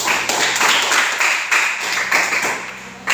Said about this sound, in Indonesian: kita berikan aplaus buat Krishna